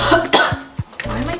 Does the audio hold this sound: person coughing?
yes